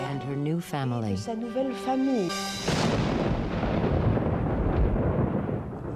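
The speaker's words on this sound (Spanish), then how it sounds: "En la noche de la boda hubo una tormenta agorera" Thunder rolls in as a storm on a wedding night, a broad rumbling wash that swells after a brief stretch of voice and lingers loudly to the end.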